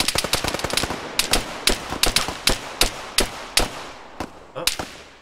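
Gunfire in an ArmA 3 video game firefight: a rapid burst of machine-gun shots followed by sharp, evenly spaced single shots and short bursts, loud and close, with no talking.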